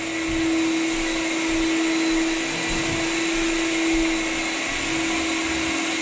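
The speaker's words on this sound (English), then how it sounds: "Sounds like a vacuum going on." A vacuum cleaner runs steadily on a white oak floor being salvaged, its motor giving a loud, constant whine with an airy hiss, unbroken for the whole stretch.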